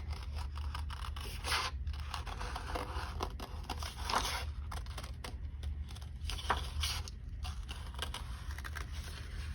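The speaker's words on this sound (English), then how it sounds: "I am going to cut out my little avocado here" Scissors cutting out a small paper avocado shape for a craft pillow box, a close, quiet run of repeated snipping and crisp paper rustles with uneven rhythm, alone without talk.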